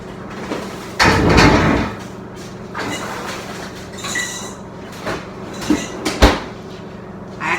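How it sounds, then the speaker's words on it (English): A home kitchen freezer is opened and a chilled metal mixer bowl is taken out, giving a burst of rattling and rustling, then a few scattered knocks and one sharp clunk, close by with no talk. "So I'm going to get mine out of the freezer here."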